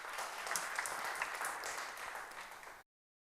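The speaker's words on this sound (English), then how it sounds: "Give him a round of applause." Audience applause for a man during a church homily on the virtue of humility, a steady dense clatter of many hands clapping throughout, moderately loud, then cut off abruptly near the end.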